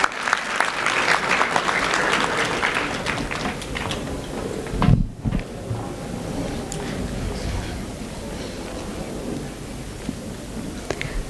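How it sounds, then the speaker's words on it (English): Audience at a junior high annual school day in Nairobi claps for award winners, fairly loud at first, then fading to scattered clapping with a knock midway and a lingering room hum. "Let's give them all a huge round of applause."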